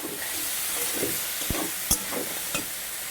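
Dried fish sizzles in a pan with dried red and green chillies, a steady frying hiss broken by a few sharp stirring scrapes, with no talk.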